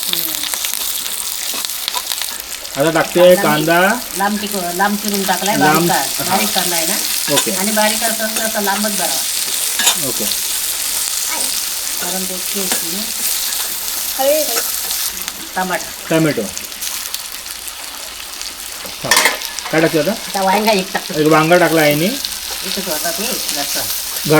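Bombay duck (bombil) fish frying in hot oil over a wood-fired clay stove, a steady bright sizzle running throughout beneath frequent women's conversation.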